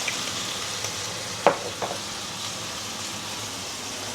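Braised pork belly sautéing in a pan gives a steady, soft sizzle throughout, broken by a couple of brief clinks of a utensil against the pan partway through; no one speaks.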